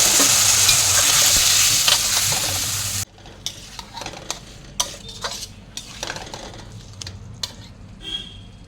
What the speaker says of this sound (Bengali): এবার সামান্য একটু গরম জল দিয়ে ভালো করে কষিয়ে নেব